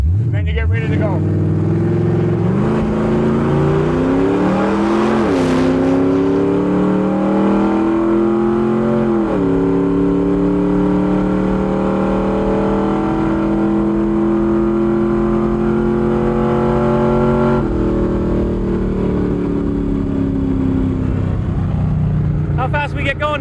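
A drag racing car launches and accelerates down the strip, its engine loud and close, rising through several gear changes in long climbing sweeps. A voice talks over the engine noise.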